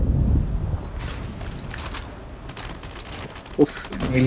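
Rapid bursts of gunfire crackle amid sharp mechanical clicks and a brief thump in Call of Duty, with bright game effects layered over the action.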